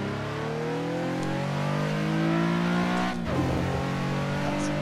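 Japanese car engine in the Assetto Corsa racing game, a loud sustained engine note rising in pitch, then a sharp gear-change break before the drone carries on, steady and close.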